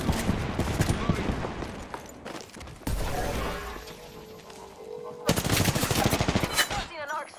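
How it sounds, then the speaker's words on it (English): Video game gunfire with bursts of rapid automatic shots, heavy impacts and breaking sounds coming in clusters separated by short pauses, loud and close, with a brief voice in the mix. "They're shooting at me."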